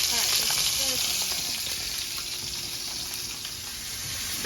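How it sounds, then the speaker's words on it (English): A pork chop sizzles steadily in a hot pan, a constant crackling hiss close by, with a faint voice briefly in the background. "And then the pork chop sizzling."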